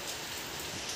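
Heavy rain falls steadily, a dense even hiss of drops on surfaces, fairly quiet and continuous with no voices.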